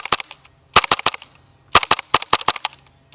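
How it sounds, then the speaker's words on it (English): A WELLPRO PPK20 airsoft gas blowback rifle fires sharp, snappy shots in two quick bursts of about five or six each, close and loud, with a short pause between. "You can really like fire up shots there."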